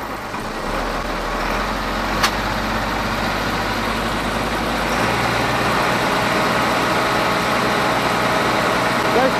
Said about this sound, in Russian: теперь увеличим обороты